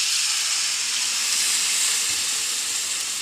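Water poured into a hot pan of beef curry masala hisses and sizzles steadily, a loud broadband steam hiss lasting throughout with no pauses.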